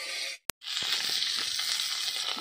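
Belhra fish fries in hot oil, a loud steady sizzle close by that briefly cuts out near the start with a sharp click, then resumes with faint stirring knocks.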